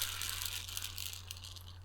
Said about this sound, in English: Do your wheels sound like this when you roll?